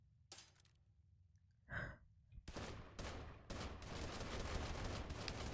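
Explosive-round pistol firing in People Playground: bursts of sharp blasts that build into a dense, sustained barrage, loud and close, after a few quieter scattered pops.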